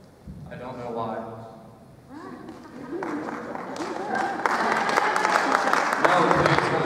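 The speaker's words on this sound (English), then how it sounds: "No, please, no applause." Audience applause at a Groesbeck talent show: one person talks at first, then a broad wash of clapping and crowd noise rises and grows louder over the last few seconds.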